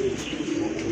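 A male pigeon coos once nearby, a low throaty rolling call that lasts about a second with faint room noise around it.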